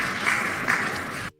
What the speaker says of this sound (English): You hear them clapping?